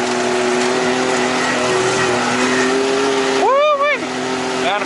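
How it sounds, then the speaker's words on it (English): Can-Am Defender Max side-by-side spinning its wheels in snow: a steady engine drone runs throughout, then a sharp rev rises and falls near the end. "It's all about the wheel spinning,"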